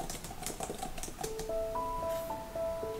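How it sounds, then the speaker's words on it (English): Quotes being typed out for a digital reading journal, a quick patter of keystrokes heard up close that gives way to sustained tonal beeps later on. "I can quickly type out those quotes into my reading journal. I prefer typing since I'm much faster that way."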